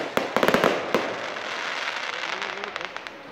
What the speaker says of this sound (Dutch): Dit is pas vuurwerk.